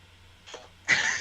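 A single close, sharp human sneeze bursts out after a faint breathy intake, followed by brief noisy trailing air on a quiet background.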